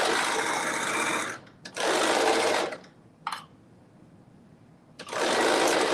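Sewing machine stitching the side seam of a thin-fabric McCall's garment, running in steady close bursts with pauses between runs, plus one brief blip during a quiet gap.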